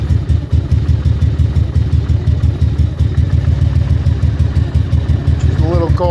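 A cold motorcycle engine, the first of several bikes brought out for a spring start-up, runs close by with a rough, steady, chugging idle that pulses evenly throughout.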